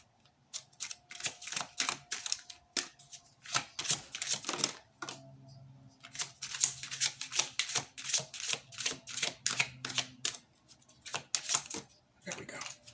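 Tarot cards are shuffled close by in rapid bursts of crisp riffling and slapping, pausing briefly midway, with a voice speaking softly underneath.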